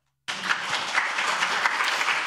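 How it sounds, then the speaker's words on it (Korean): Audience applause at a Korean social welfare forum on implementing the integrated care support act, a dense, steady burst of clapping that starts abruptly and carries on evenly for about two seconds. "박일규 상임대표님을 위해서 다시 한번 박수 부탁드리겠습니다"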